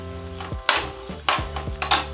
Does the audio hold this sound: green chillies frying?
yes